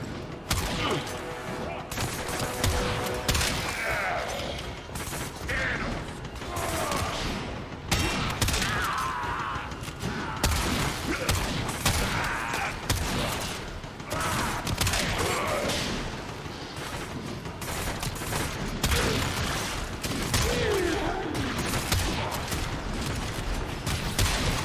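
Dense, continuous gunfire from Warframe fights against Grineer enemies while a room floods, with rapid bursts, booms and crashing impacts running throughout at steady loudness.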